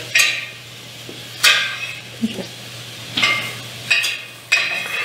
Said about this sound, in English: So all that essence from the mushroom, the garlic, and ginger, when that sautés together